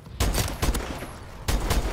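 Sniper rifle fire in Call of Duty: Advanced Warfare during a match: sharp, loud shots in quick succession, a burst of several cracks followed by a pause and another pair, close and dominant over faint game ambience.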